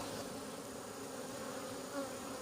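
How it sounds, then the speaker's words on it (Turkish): A close, continuous buzzing of many honeybees coming out of a hive during a March inspection, a steady droning hum with no talking. "bakın şurada da arılar çıkıyor"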